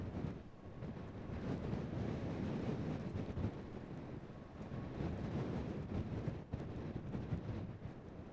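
Strong wind at Corrour railway station roars steadily across the microphone, a loud, continuous rushing buffeting with no speech.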